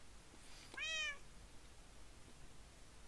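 A single short in-game Minecraft cat meow, clear and fairly close, rising and falling once, then quiet ambient background with no talking.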